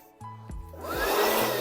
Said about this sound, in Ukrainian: Зараз обезпилимо це все діло. Дуєчка від Дніпра, також вона й пилісос.